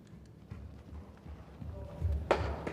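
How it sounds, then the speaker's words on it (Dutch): A horse trotting in an arena at a riding event, soft rhythmic hoof clip-clops at moderate distance under low background noise, growing a little louder toward the end. "Je mag doordraven, Raya."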